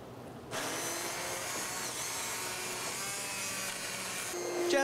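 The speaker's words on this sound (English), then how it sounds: "We're now gonna puree this soup to get it nice and smooth." A blender whirs steadily while pureeing a sunchoke and roasted shallot soup, a continuous close, loud motor whine running for several seconds after a brief quiet start.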